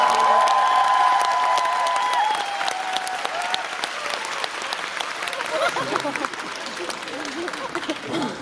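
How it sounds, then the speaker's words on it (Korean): Concert audience applauding loudly and steadily for a singer's next performance, a dense wash of clapping that holds for several seconds, with a held tone and voices faintly under it at first. "여러분 큰 박수 부탁드릴게요"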